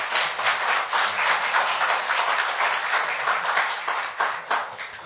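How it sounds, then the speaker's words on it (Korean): Applause from a lecture audience thanking a former Japanese prime minister after a talk on the Fukushima nuclear accident, a dense, steady wash of many hands clapping for about five seconds with no voices. "다시 한번 강의와 질의응답에 수고해 주신 간나오토 전 일본 총리께 감사의 박수를 부탁드리겠습니다."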